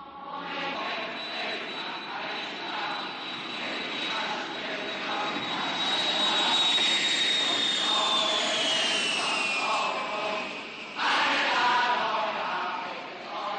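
Airplane arriving, its engines a loud, steady jet whine that slowly falls in pitch as it nears and slows, with a brief louder surge near the end and no voices.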